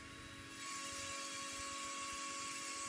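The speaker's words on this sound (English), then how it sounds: "I actually used a Dremel for the rest of the cutting." A Dremel rotary tool cuts metal for articulated monster hands, a steady high whine that starts just after the opening and holds close and level.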